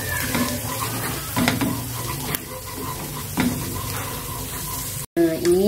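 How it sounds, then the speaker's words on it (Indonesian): Chopped garlic sautéing in hot oil in a pan, a loud, steady sizzle with stirring scrapes throughout, broken by a brief cut near the end; low voices are faintly audible underneath. "Lalu kita tumis dulu untuk bawang putihnya tadi."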